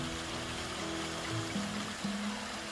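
Water rushes and splashes steadily down a small fall, a continuous close roar with low burbling tones underneath.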